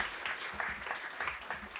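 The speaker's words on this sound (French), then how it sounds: "On peut également l'applaudir, s'il vous plaît" Audience applause for Lucie Castets at an evening event, a quiet, steady patter of clapping from a modest crowd that continues evenly throughout.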